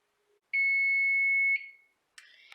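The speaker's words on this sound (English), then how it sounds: "And the timer says my fish is done" An oven's kitchen timer, signalling that baking fish is ready, sounds one long, loud, steady electronic beep near the listener, followed by a short, harsher burst of beeping in a quiet home kitchen.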